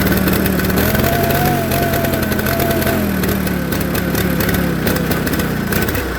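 Onan engine in a John Deere 318 garden tractor running rough at full throttle, a loud continuous close engine drone with uneven wavering pitch and sputtering pulses throughout, no talk.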